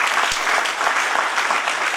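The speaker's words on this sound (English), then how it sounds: "Clap again, another one." A crowd applauds steadily at a Caritas 50th anniversary event, a dense wash of many hands clapping at once that holds at an even level throughout.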